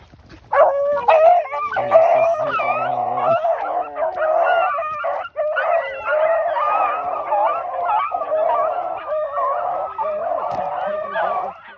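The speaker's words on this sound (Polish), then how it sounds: "Zresztą posłuchajcie sami. Oto bigle, które polują na zająca." A pack of beagles hunting a hare, baying and howling together in a dense, continuous chorus of overlapping yelps and drawn-out cries, loud and close throughout.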